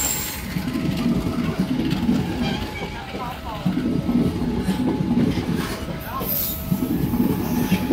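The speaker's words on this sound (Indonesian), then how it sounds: "Ini kereta termurah Jogja Jakarta" The Bengawan economy passenger train on the Jogja–Jakarta route passes through an Indonesian station, its wheels clattering in rhythmic clickety-clack with faint squeals, close and steady throughout, with a voice talking over it.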